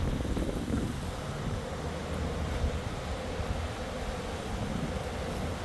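Strong wind from a Hurricane Milton tropical storm blows in West Palm Beach, Florida, before dawn, a steady loud roaring rush with gusty buffeting and no voices.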